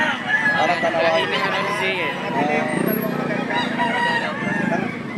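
Gamecock rooster crowing amid other fowl at a fighting-cock market in Lipa, Batangas, with clucking and overlapping calls close by under a busy layer of people talking.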